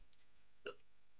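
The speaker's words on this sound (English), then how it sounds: "I have the hiccups, sorry." A single short hiccup breaks a quiet background, one brief isolated burst with nothing else around it.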